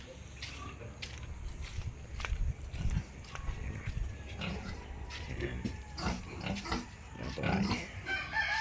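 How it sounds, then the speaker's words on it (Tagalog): A pig in a pen beside a family-built pig house grunts and snuffles at low level, several short oinks scattered through a busy farmyard background with other animal noises. "Ito po yung baboy nilaw."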